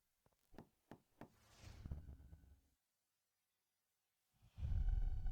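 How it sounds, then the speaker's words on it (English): Three sharp raps knock on a door in quick succession, followed by low rumbling background noise, a pause of silence, then a louder muffled burst of low noise. "I'll knock on the door."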